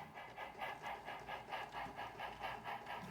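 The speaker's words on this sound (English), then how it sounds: "It's not every day that we run a steam engine here" A model Heavy Mikado steam locomotive hauls a string of grain cars on a layout, giving a faint, regular chuffing rhythm with soft hiss, steady and unbroken.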